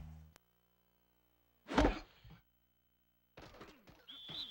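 Football punt booted in the ESPN NFL 2K5 video game after an extra point, a single loud, sharp thump, followed by a brief quiet and then game crowd and announcer sounds.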